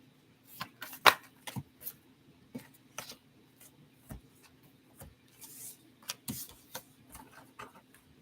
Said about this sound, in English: Let me get a couple more cards.